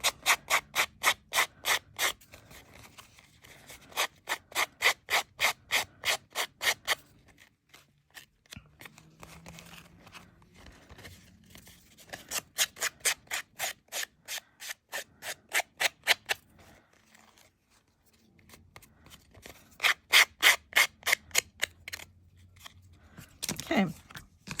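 A fingernail smoothing a tissue napkin down on paper, making bursts of rapid rhythmic scratchy rubbing strokes, close and crisp, with pauses between runs.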